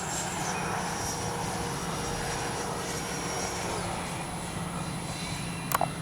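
FMS 70mm F-18F RC jet making a slow flyby, a steady broadband electric ducted-fan whine and rush that holds fairly constant over several seconds at moderate distance, with a brief sharp click near the end.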